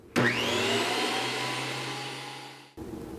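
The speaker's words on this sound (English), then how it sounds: "this 15 amp universal motor isn't exactly quiet" A Cutech 13-inch benchtop planer with a 15 amp universal motor starts up with a sudden loud whine, holds a steady high-pitched roar for about two and a half seconds, then cuts off.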